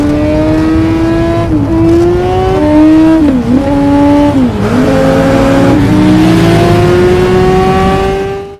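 Ducati racing motorcycles scream along a track in a race audition, a loud, sustained high-revving engine whine whose pitch dips and climbs through gear changes before cutting off.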